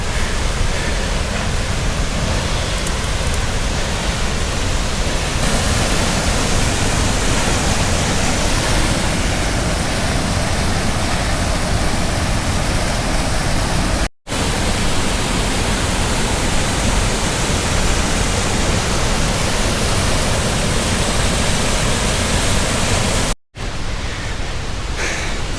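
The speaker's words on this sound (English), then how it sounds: "Now I know there's another waterfall." A waterfall in the Colorado woods roars as a dense, constant rush of water close by, continuous and loud with two very brief breaks, and no voices.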